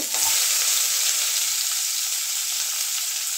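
Chopped onion frying in hot oil, giving a loud, steady, hissing sizzle that stays even and uninterrupted from start to finish.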